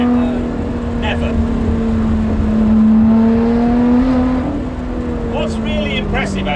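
Engine of the one-off Lotus Exige 430 Cup 'Type 49', a lightweight rear-wheel-drive car: a loud sustained tonal drone rising and falling in pitch as it revs and pulls away, with brief voices and clicks toward the end.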